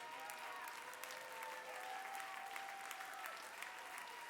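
A church congregation claps steadily and continuously, a dense even wash of applause filling the room with faint crowd murmur underneath and a sustained tone running below.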